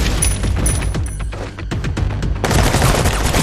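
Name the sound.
gunfire in a film shootout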